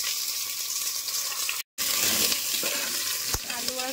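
Potato and pumpkin go into hot oil in a pressure cooker already holding five-spice, bay leaf and dried red chilli, sizzling loudly and steadily with a brief cutout and a sharp clink.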